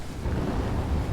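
A cannon firing in the space-combat game Everspace 2, a short, loud, deep rumbling boom that swells and holds for about a second.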